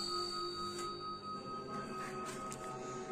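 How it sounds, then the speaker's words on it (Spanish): A single bright bell tone rings out and sustains with a shimmering, slowly decaying resonance, quiet and alone. "hacer sonar una campana"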